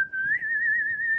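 One person whistles a tune in a clear, steady, sustained tone, heard close and alone with no talking.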